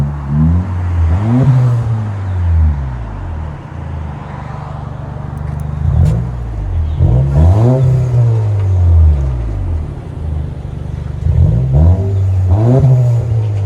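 A 2021 Honda Accord 2.0L turbo with muffler delete revs hard several times with a raspy, unmuffled exhaust roar, each rev climbing sharply then falling back to a rumbling idle, loud and close.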